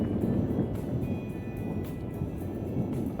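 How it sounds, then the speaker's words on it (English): Thunder in the Gold Mining Simulator game, a deep, continuous rolling rumble that stays loud and steady throughout, with no talk over it. "The thunder's quite loud."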